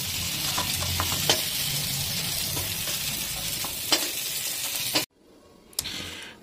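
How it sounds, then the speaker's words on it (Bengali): Cauliflower pieces frying in oil, a steady close sizzle with occasional utensil scrapes and taps, cutting abruptly to near silence near the end before a brief clatter and a softer sizzle return. "এখানে ফুলকপিগুলো দেখুন মোটামুটি লাল লাল করে ভাজা হয়ে গেল"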